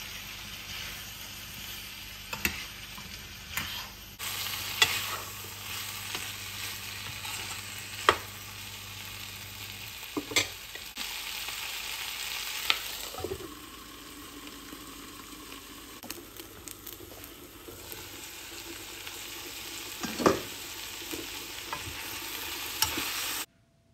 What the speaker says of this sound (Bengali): মশলা ভালোভাবে কষানোর পর বাইট সাইজ করে কেটে রাখা ক্যাপসিকাম আর পেঁয়াজ দিয়ে দিচ্ছি।